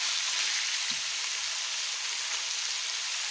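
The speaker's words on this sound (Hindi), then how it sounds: "जिंजर और गार्लिक का पेस्ट भी अच्छे तरीके से भून हो गया है गोश्त में।" Mutton with ginger garlic paste frying in a pan, giving a steady, close, unbroken sizzle without any talk.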